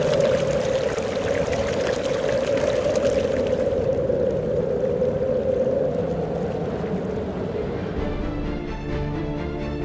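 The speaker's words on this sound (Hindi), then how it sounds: "इससे जुगलबंदी कर रही है स्पीति नदी की कलकल।" The Spiti river near Kaza in Himachal Pradesh gurgles and rushes in a steady, dense wash of flowing water, heard close and unbroken, easing slightly toward the end.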